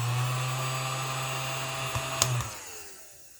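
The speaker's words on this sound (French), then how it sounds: "Mon petit aspirateur que j'ai changé en cours de route parce qu'il n'avait plus de piles." A small battery-powered vacuum cleaner runs with a steady whining hum, gives a couple of brief clicks near the end, then winds down and fades.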